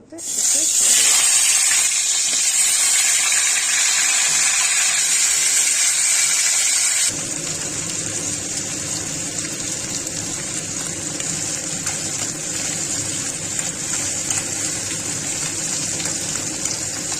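Katla fish heads frying in hot oil, a loud continuous hissing sizzle that drops to a lower, steadier crackle partway through.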